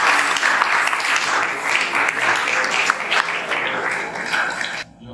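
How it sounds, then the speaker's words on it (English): An audience at a health seminar at St Peter's Regional Seminary in Pedu gives a full, steady round of applause that holds for about five seconds before dropping away. "With a round of applause, let us welcome Very Reverend Father John Kennedy Mensah."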